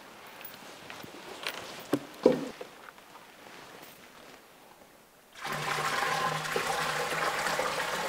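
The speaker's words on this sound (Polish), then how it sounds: "dolejmy tu wody, żebyśmy mieli głębsze morze" Water is poured into a beaker, a steady rushing pour that starts abruptly after some quieter handling sounds and continues to the end.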